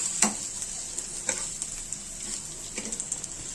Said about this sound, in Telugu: వీటిని పచ్చివాసన పోయేంత వరకు వేయించుకుందాము